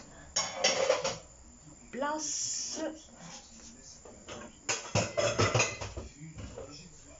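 Small load of dishes being washed by hand in a home kitchen, with clinking plates and cutlery coming in bursts near the start and again toward the end, while someone talks throughout.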